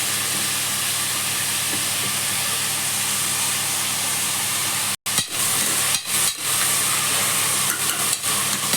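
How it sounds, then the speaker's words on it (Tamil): Onions fry in oil in a pan for chicken gravy, giving a steady close sizzling hiss that is briefly broken by a few short clatters near the end. "வெங்காயம் நல்லா வதங்கட்டும்"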